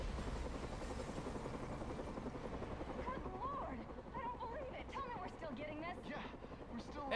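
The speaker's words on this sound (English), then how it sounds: "the Batman has been blown from the building by the blast and is somehow hanging from the bottom of our helicopter" A helicopter in the Batman: Arkham Origins video game gives a steady, close rotor and engine drone throughout, with voices talking over it in the second half.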